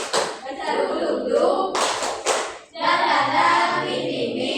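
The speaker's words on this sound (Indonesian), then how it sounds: "Yang kayak gini, tepuk semangat." A classroom of students performs a rhythmic spirit clap, sharp bursts of hand claps in a patterned sequence, loud and close, with voices chanting and talking between the claps.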